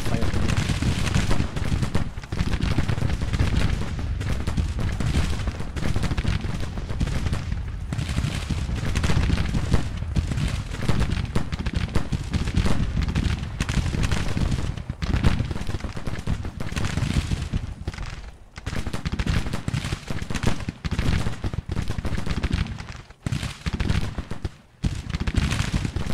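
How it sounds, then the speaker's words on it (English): Musket volleys and artillery fire from a Civil War battle in the Grand Tactician strategy game, a dense, continuous loud crackle of gunfire with heavier booms, sustained throughout with brief dips near the end. "We've got to take some flanking fire."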